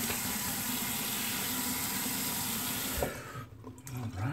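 Tap water runs steadily into a sink while someone rinses off after a shave, a close, constant splashing hiss that cuts off near the end, leaving a few small drips and handling sounds.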